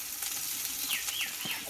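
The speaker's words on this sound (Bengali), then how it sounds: "তেলটা একটু ছেটকাচ্ছে" Oil spattering in a pan while frying a vegetarian pointed gourd (potol) dish with turmeric, a steady close crackling sizzle with faint stirring scrapes and a few brief chirpy squeaks.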